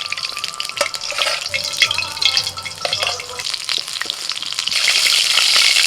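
Pabda fish fries in hot oil in a kadai, a dense crackling sizzle with sharp spitting pops and splatters throughout, close and loud, swelling into a harsher hiss near the end.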